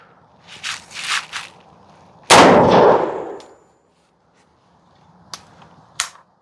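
A Charles Daly 101 folding single-shot shotgun fitted with a caliber adapter fires one sharp, loud blast with a short decaying tail outdoors, bracketed by faint clicks and handling noises before and after.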